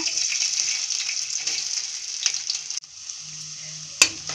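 Ginger, garlic and green chillies frying in hot oil in a wide kadai, a dense steady hiss close by with faint stirring scrapes, easing off midway, a single sharp clink near the end.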